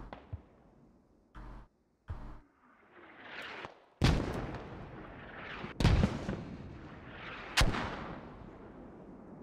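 Mortar fire in a military shooter game: several sharp booming blasts at irregular intervals, some loud and close, with rumbling tails and quieter stretches between.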